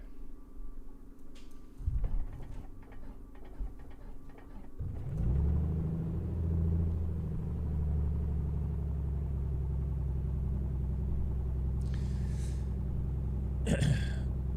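Piper Comanche engine restarting in Microsoft Flight Simulator 2024: a few clicks and a starter whir, then at about five seconds the engine catches and settles into a loud, steady low rumbling drone that runs to the end.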